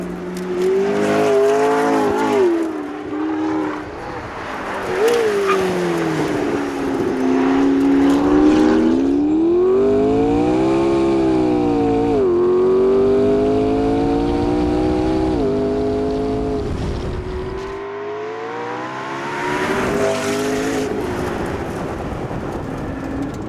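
A McLaren P1 hypercar engine roars steadily on a track, its pitch climbing and falling through gear changes as it accelerates and slows, loud and close with no talking.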